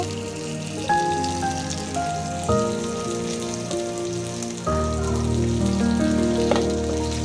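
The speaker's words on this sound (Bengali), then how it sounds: "আমি আবার মাছ দিয়ে দিয়েছি তো ভালোভাবে মাছ ভেজে নেব" Rupchanda pomfret fish fries in hot oil, a continuous rain-like crackling sizzle heard up close alongside a steady tonal hum that shifts pitch, with no talking.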